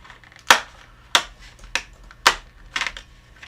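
Paper pieces being cut with a cutter for a craft product, five or six sharp, close slicing snaps spaced about half a second apart, the last one a quick rattling cluster, with no talking.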